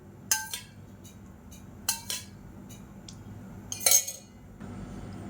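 A cooking pan is handled and set down on a kitchen stove before making chutney, giving three sharp metallic clinks spaced a second or two apart against a quiet background.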